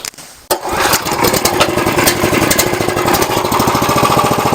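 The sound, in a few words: Lifan 188F petrol engine starting, homemade sawmill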